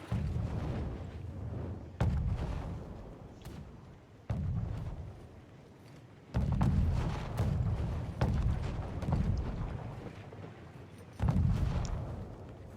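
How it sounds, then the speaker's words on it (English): Repeated mortar fire in the online battle game Conqueror's Blade, heavy booming blasts landing every one to two seconds, each followed by a rumbling decay, loud and fairly close with no talk. "Starting straight off with a bit of mortaring from both sides."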